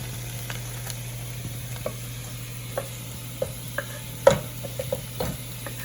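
Taco meat sizzles in a frying pan with a soft, steady hiss, broken by scattered clicks and scrapes of stirring.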